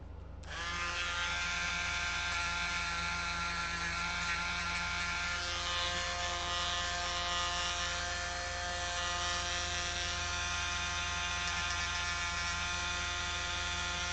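A Dremel rotary tool starts almost at once and runs at a constant high-pitched whine for the rest of the time, loud and close, used during a build of a Team Associated T6.4 RC truck.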